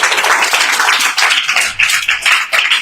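An audience at a Christmas church program applauds with brisk, uneven hand claps that rise and dip in waves, close and loud.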